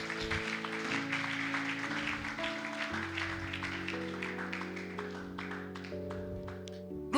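A church congregation claps along in a lively, steady rhythm while music with sustained tones plays through the gathering, the claps dense and moderately distant.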